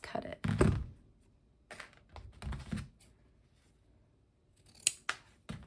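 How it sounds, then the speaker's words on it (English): Scissors snip through elastic for sewing workwear shorts, with several close crisp cuts in separate bursts and quiet pauses between them. "Okay, we have our elastic and let's cut it."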